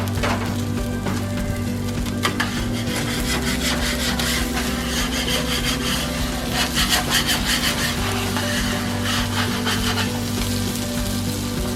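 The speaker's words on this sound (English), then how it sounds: "I want to take that skin off right there." Salmon skin scraped off a hot Blackstone griddle with a metal spatula, a continuous close rasping scrape over a steady sizzle, with repeated grinding strokes and no talk.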